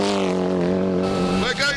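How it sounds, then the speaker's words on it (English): Mitsubishi Lancer rally car at speed, a loud harmonic engine note holding steady then rising sharply near the end, with a voice talking over it. "the hugely successful Mitsubishi Lancer rally car, made in Japan"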